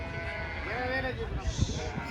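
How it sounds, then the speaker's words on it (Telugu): Sheep bleat in a wavering, drawn-out call amid a busy outdoor crowd at the Pileru sheep and goat market, with people talking nearby and general market bustle underneath. "ఇక్కడైతే ఒక కట్ట గొర్రెలు ఉన్నాయి"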